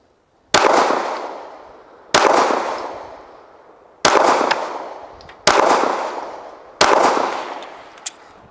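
Five sharp, loud shots from a TS9 pistol fired at a target at five metres, evenly spaced about one and a half seconds apart, each ringing out with a short decaying echo.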